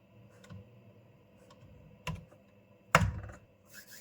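Typing code on a computer keyboard: a few sparse key clicks and one sharper tap near the end, close and fairly quiet, over a faint steady hum.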